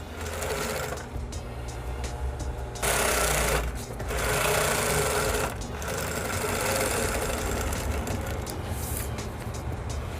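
Close and loud, a sewing machine motors through topstitching on a fabric fringe bag made from recycled cloth, running in long continuous bursts with brief pauses between them.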